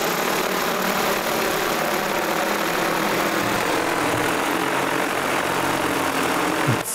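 DJI FC30 heavy-lift drone motors hovering while carrying freight, a loud, steady, dense whir that holds level throughout, with a brief shift at the very end.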